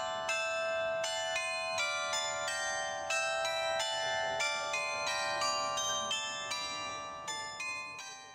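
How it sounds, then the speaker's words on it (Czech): Carillon bells ring from the town square in Goslar, a quick melodic run of clear tonal strikes with long overlapping resonance, steady and fairly loud throughout, with no talking. "Pro město je typická i zvonkohra."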